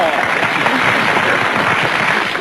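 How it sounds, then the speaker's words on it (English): Studio audience applause during a vintage radio ventriloquist comedy broadcast, a dense, steady clapping wash that holds at an even level for the full few seconds. "I see no reason for applause"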